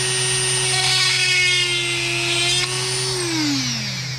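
A Dremel rotary tool hollows out a painted hole in a fishing lure, giving a loud, close, steady high-pitched whine that holds its pitch, then winds down in the final second as the motor slows, with no talking.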